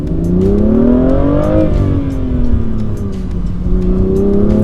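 A BMW M2's engine revs hard and holds high, its loud rising and falling whine steady throughout with no one talking.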